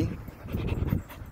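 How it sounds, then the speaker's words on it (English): A young dog at an animal shelter pants quickly and steadily, with soft rhythmic breaths heard up close at low volume. "She's a very friendly young pup here at the Irving Animal Shelter."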